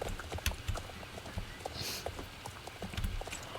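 Horse hooves clip-clopping during riding in the online game Star Stable Online, a steady run of soft rhythmic hoofbeats close up over light background ambience.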